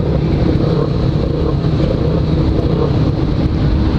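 A Yamaha XJ6 motorcycle accelerates hard while climbing a mountain road toward Embu das Artes, its engine a loud, steady roar held close for the whole stretch with constant wind rush.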